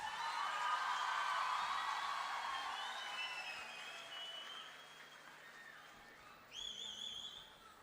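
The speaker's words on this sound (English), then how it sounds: "With a big round of applause." At a medical college's silver jubilee celebration in Mangalore, an audience claps loudly at first, then the applause slowly thins, with a few sharp whistles and a whoop near the end.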